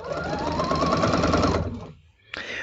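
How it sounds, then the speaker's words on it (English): A sewing machine runs steadily for about a second and a half, stitching paired strips of a rag quilt with a close, rapid mechanical whir, then stops; a brief higher whine follows after a short pause. "So I'm going to continue sewing all my pairs together"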